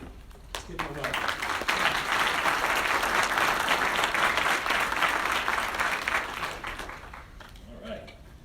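An audience at a county tourism development authority meeting applauds to welcome a consultant, dense sustained clapping that builds quickly, holds strongly for several seconds and then thins out near the end.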